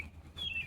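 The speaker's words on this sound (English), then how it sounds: "There's a bird singing too." A bird sings outdoors, giving a brief, faint, high chirp or whistle over soft background ambience.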